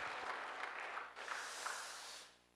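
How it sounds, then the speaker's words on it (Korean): A church congregation applauds during an Easter Sunday service: a soft, steady wash of many hands clapping that thins and fades out at the very end. "하나님께 영광의 박수 올려드리겠습니다"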